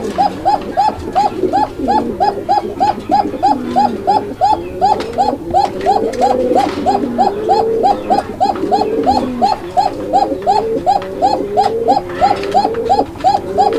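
Pigeons on a pigeon farm coo continuously, with a steady repeating rhythm of loud, close calls overlapping from several birds throughout.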